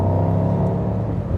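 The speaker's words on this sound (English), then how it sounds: "You can definitely hear that roar of this engine." A deep, steady V8 engine rumble from a 2024 Mercedes SL63 AMG idles close by, low and throaty with a continuous tremble and no break.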